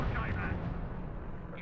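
Battlefield artillery and gunfire in the WWII strategy game R.U.S.E., a dense rumbling wash of distant shelling and shots running continuously for under two seconds, with speech-like radio chatter mixed in.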